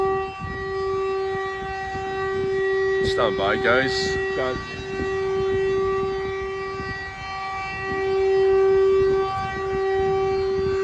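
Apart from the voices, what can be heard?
air raid siren going off in Izyum, Ukraine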